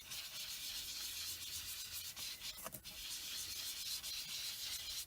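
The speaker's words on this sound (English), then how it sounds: "I'm just going to lightly rub some of that ink onto my blending foam" Distress ink being lightly rubbed onto a blending foam tool for card-making: a steady, soft, dry scuffing that runs continuously at close range, with a brief sharper scratch in the middle.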